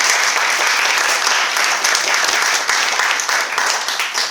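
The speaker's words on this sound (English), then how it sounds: "Big clap, please." Guests at a speech break into loud, close applause, a thick continuous burst of clapping from a room full of people that holds steady from start to finish.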